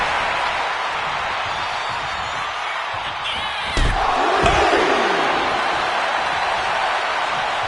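Arena crowd noise from the WWE 2K25 wrestling video game, a steady broad roar that swells briefly with a sharp slam-like hit midway, continuing loud throughout.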